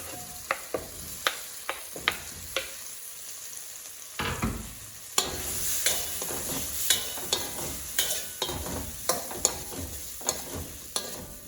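Potatoes and tomato pieces fry in oil with a soft continuous sizzle, broken by regular sharp knocks and scrapes of stirring against the pan that grow livelier midway.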